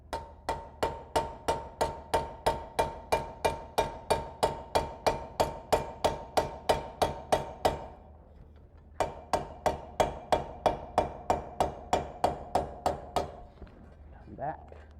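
A blacksmith's hammer rings on an anvil in a steady run of about two dozen sharp, evenly spaced metallic strikes, a brief pause, then another quick series, close and loud at a smithing conference demonstration.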